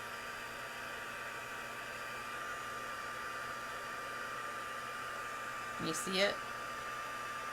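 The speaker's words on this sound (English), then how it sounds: "And then we're going to heat it up with the embossing tool, the heat tool." An embossing heat tool blows hot air to melt embossing powder, a steady close whooshing roar that fills the whole stretch, with a brief voice speaking over it near the end.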